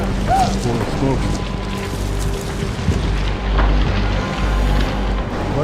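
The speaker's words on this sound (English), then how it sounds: "A bunch of rock, half the size of a car, the first one, came down the mountain." Deep rumbling booms roll through gusty wind noise, a heavy rockfall of car-sized rocks thundering down a mountain in Pakistan from a distance with no clear voices.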